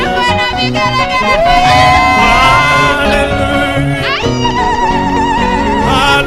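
A church congregation at a Kikuyu service ululates loudly with high warbling trills, joined by cheers over ongoing singing and music.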